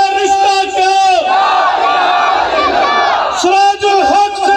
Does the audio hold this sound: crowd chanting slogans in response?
yes